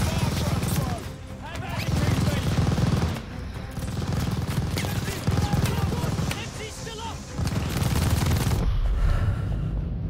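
An enemy machine gun fires in a Call of Duty Vanguard campaign battle, loud sustained bursts with brief gaps across the whole stretch, mixed with other combat noise and a voice shouting over it.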